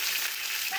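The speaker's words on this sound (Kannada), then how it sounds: "ಮತ್ತೆ ಇಲ್ಲಿ ಫ್ರೈ ಮಾಡ್ತಿದ್ದೀವಿ." Onions and pepper frying in a pan give a brief, steady hiss of hot oil, bright and continuous, close by with no voices.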